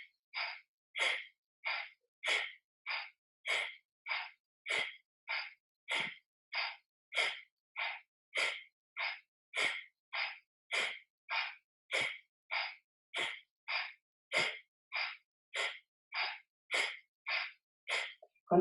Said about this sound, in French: Et on va commencer à respirer.